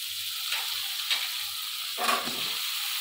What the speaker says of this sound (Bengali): কড়ার মধ্যে আমি বেগুনগুলোকে দিয়ে দিলাম।